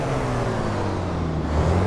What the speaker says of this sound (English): It's got a nice exhaust note to it.